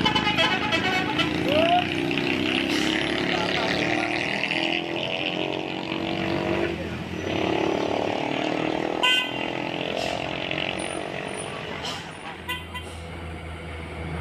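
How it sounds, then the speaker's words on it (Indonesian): A tow truck hauling a luxury sedan on the steep mountain road at Sitinjau Lauik toward Padang, heard as a steady engine drone with passing traffic, a horn toot, and brief voices in the background. "Truk towing membawa satu unit mobil sedan mewah menuju Kota Padang."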